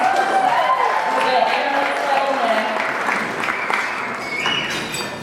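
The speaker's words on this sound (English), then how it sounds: "everyone give your clap" Wedding guests at a reception clap continuously after the matron of honor's toast, with cheers and voices mixed in throughout.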